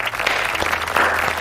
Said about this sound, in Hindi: ताली बजा दो यार इसके लिए।